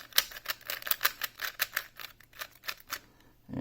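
A new puzzle cube from a ZiiCube order being turned with tight tensions, a rapid series of hollow, scratchy clicks and clacks in an irregular rhythm, close and fairly quiet, with no talking.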